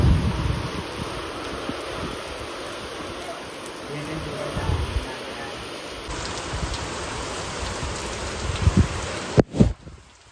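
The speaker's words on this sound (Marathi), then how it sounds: "आता एवढा पाऊस आला की भरपूर पाऊस पडतो" Heavy unseasonal rain falls at night as a dense, steady hiss that fills the whole stretch. Near the end comes a pair of sharp, close knocks.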